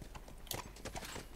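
Faint, quick clip-clop of horse hooves in the video game The Last of Us, a brief run of light, evenly spaced steps heard at a distance.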